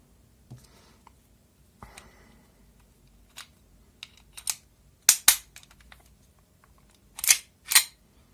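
A camera shutter is tested, the body fitted with a frame taken from a second camera; sparse soft clicks lead to a pair of sharp, close shutter snaps, then another quick double snap after a short pause.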